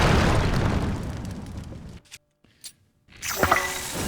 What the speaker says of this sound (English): Time for bombs.